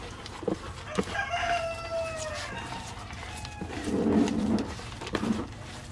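Layer chickens on a farm cluck and crow in a mix of calls, fairly close, with a burst of busier clucking midway and scattered sharp knocks, no talk.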